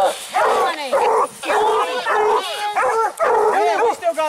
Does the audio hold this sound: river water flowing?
no